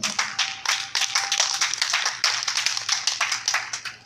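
A church congregation applauds steadily and fairly close for the whole span, a dense wash of clapping hands with no speech.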